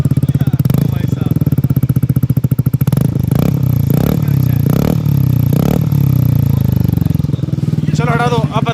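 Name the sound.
Yamaha Aerox 155 scooter engine with modified exhaust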